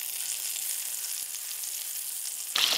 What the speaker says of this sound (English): We're gonna go ahead and flip our pork chops over.